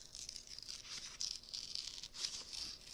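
A paper envelope is torn open slowly and carefully, a continuous close, crisp ripping with slight crinkles, quiet and with no talk.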